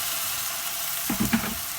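Garlic and ginger frying in a pan sizzle steadily as a little water from the kettle is poured in, giving a few sharper bursts of spitting hiss partway through, close and alone with no talk.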